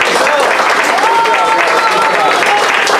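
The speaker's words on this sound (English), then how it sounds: "round of applause, guys" A crowd claps steadily and loudly throughout at a youth baseball team awards ceremony, with some voices and cheers mixed into the applause.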